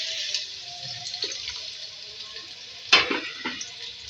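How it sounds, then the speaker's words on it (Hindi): Onions frying in a mix of oil and ghee for beef biryani hiss steadily in the pot, with a few louder stirring scrapes and clinks breaking through near the end. "देखिए जी, इसको फ्राई कर रहे हैं।"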